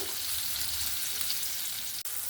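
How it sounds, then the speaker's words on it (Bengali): Bombil fish being rava-fried in hot oil, a steady close sizzle and crackle throughout with one brief gap near the end; no talking. "এবার আমি এক একটা করে মাছ এরকম বসিয়ে দেব।"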